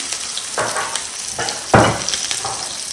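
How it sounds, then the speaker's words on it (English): Curry powder sizzles and crackles in hot oil for a meat stew, a close, steady frying hiss with a few louder bursts as it is stirred. "Go in with my curry powder to infuse in the oil is very important."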